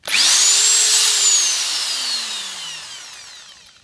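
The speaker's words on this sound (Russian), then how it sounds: "Вот, а дрели и болгарки все равно работают," Power drill spinning up loud and close, a steady high whine that holds briefly then winds down with falling pitch as the motor coasts to a stop, heard in a garage workshop while fitting a lock to a steel door.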